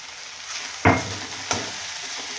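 Sabudana khichdi with crushed peanuts being stirred in a pan, two sharp spoon-and-pan scrapes over a soft sizzle, close up with no talking.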